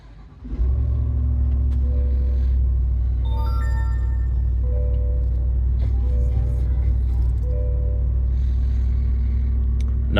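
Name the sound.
Chevrolet Tahoe engine started with push button ignition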